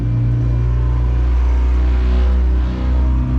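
A 2023 Yamaha F300 outboard motor on a 25-foot Seahawk North River boat runs just in gear, a loud steady low engine rumble with a slight swell, close by and without talk.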